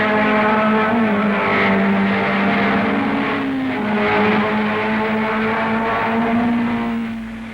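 Vintage 1961 racing cars lapping a circuit in a club race: one continuous loud engine howl, its pitch rising and falling through gear changes, fading slightly at the end.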